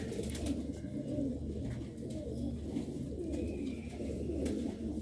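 Golden and Sialkoti breeder pigeons coo softly, a low, continuous burbling murmur close by, fairly quiet and without voices.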